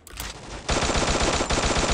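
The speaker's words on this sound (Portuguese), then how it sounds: "Um tiro." Automatic gunfire in the online shooter Free Fire during a 4v4 match, a short burst and then a sustained rapid stream of loud, dense shots after a brief quieter lead-in.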